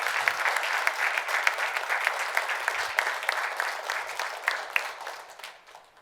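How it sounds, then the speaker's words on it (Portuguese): A church congregation breaks into dense, lively applause, many hands clapping together close by and loud, then tapering off gradually toward the end. "Vamos dar um forte aplauso ao Senhor."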